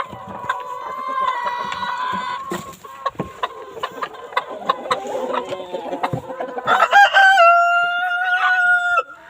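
Free-range hens clucking and crowing close by as they are let out onto grass, a busy overlapping flock with a sustained crow near the end, no speech.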